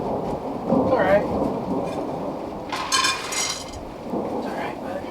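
Thunder rolls through a thunderstorm with rain falling, deep rumbling swells rising and fading over steady patter, fairly close and loud.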